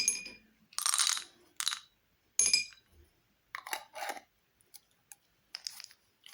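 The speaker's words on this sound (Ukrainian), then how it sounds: "А сюди давайте насипемо гороху горішків." Several bursts of peas and nuts rattling and clinking into a jar, poured in quick handfuls with short pauses between, close by.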